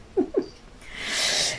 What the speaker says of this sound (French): Ça c'est mon chat qui vient se blottir contre moi